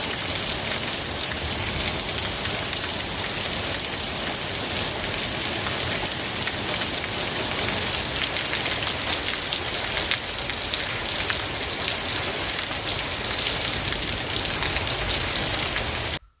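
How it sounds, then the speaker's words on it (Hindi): Heavy hail mixed with rain pours down in a dense, steady hiss and patter, loud and close, continuous for the whole stretch and then cutting off abruptly. "नॉर्मल बारिश भी नहीं, ओलों वाली बारिश अभी आ रही है।"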